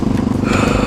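Honda XR650L motorcycle with a DG exhaust pipe idling up close, a loud, steady, lumpy single-cylinder thump with a sharp, poppy edge, heard alone for under a second.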